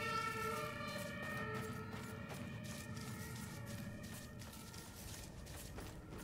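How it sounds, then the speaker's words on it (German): An ambulance siren sweeps by beneath a window in the video game Murdered: Soul Suspect, its wailing tones steady and moderately loud over a low rumble of city ambience, with no voices. "da kam also ein Krankenwagen direkt unter meinem Fenster vorbei."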